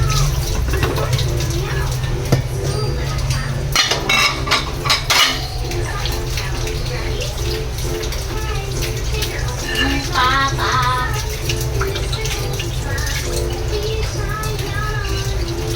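Water runs weakly from a tap during dishwashing, with clinking plates, pots and cutlery over a steady faint flow, heard close up at moderate loudness.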